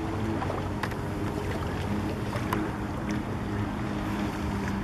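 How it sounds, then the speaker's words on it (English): A speedboat passes on the Niagara River, heard as a steady, broad motor drone at a distance, mixed with gusty wind rumbling over the microphone, with no talking. "Wow, there's a speedboat."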